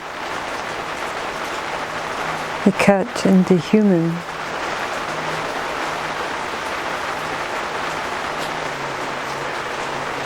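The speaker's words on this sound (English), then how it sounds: "We are sitting here in the rain" Steady rain falls outdoors as an even, hissing patter throughout, while a person talks briefly in the middle over it.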